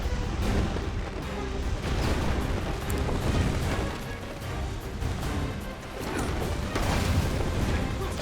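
Repeated loud crashing smashes and booming impacts as water barrels shatter in Spider-Man: Shattered Dimensions, a dense, noisy game soundscape, one after another with little pause.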